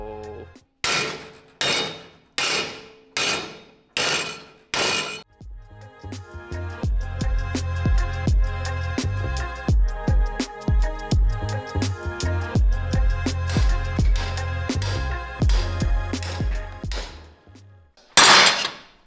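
Hand hammer striking heavy gauge steel plate for a Porsche 911 widebody backdate: six separate loud ringing blows, then a rapid run of close metallic strikes over a low rumble, and one final hit.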